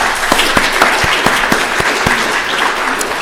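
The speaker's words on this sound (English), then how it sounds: "Spontaneous round of applause for our speakers." An audience at a medical grand rounds session on changes to medical training gives a round of applause for the speakers, a dense steady burst of clapping from a nearby crowd with no talking.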